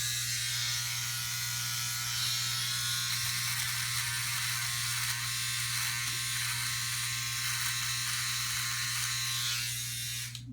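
A Philips OneBlade electric trimmer shaping a goatee gives a close, steady high-pitched buzz that runs without break, with faint cutting rasps over the motor hum.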